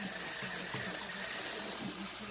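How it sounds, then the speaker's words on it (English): Hands being washed under a running kitchen tap while cooking: a steady, close hiss of flowing water with faint splashing throughout and no speech. "Wash my hands."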